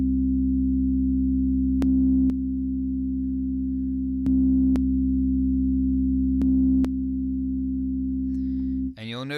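Synth bass from an ASM Hydrasynth played through its ladder 24 filter, a steady sustained low tone with brief clicks at each note change, alone until a voice starts at the very end.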